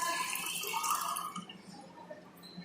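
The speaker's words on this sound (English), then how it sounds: "So 100 ml water we added in this" Water poured into a laboratory beaker during a school soil practical, a bright splashing trickle that fades after about a second into faint drips.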